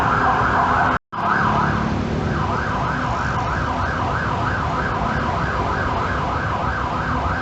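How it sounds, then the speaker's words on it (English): An ambulance siren wails, sweeping up and down steadily over a constant roar of city traffic at Victory Monument, Bangkok, loud and close, after a brief cutout near the start. "You'll always hear a lot of ambulances when you're here."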